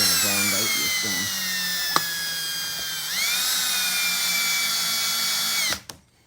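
Drill-like power tool spinning a valve against its seat with lapping compound during a head rebuild on a 6 HP International Harvester Famous stationary engine; steady high whine, rising in pitch midway, then stopping abruptly near the end.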